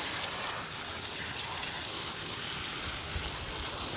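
Garden hose spraying water onto raised bed plants, a steady close hiss of spray running continuously without pause.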